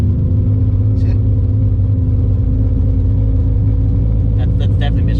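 A Mitsubishi Eclipse third generation engine idles and revs with a rough, stuttering misfire, a steady loud low rumble with brief uneven bursts, while someone talks over it.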